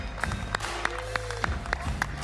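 A sparse audience at the EA E3 2018 presentation claps in thin, evenly spaced single claps, about one every third of a second, sounding small and hollow under a faint background hum.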